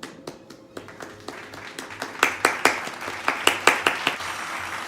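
A single person claps indoors in a quick, uneven series of sharp, close hand claps that grow louder and more regular before a brief pause.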